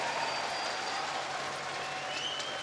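Crowd cheering and applauding at a CS:GO esports semi-final at IEM Sydney 2019, a steady continuous roar of applause filling the arena with no clear break.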